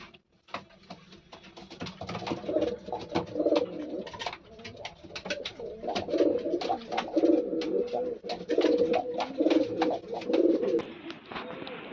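Loft pigeons coo repeatedly in soft, rolling phrases, close and fairly loud, with scattered clicks and rustling from the birds moving around the loft.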